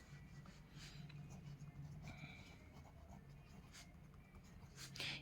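Chalk or marker scratching steadily across a classroom board during a tenth-grade maths lesson, close and continuous with irregular strokes, no talking over it.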